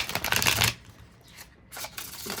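A tarot deck riffles briskly in a short burst, then a quiet pause before another softer flutter of shuffling starts up, close and crisp.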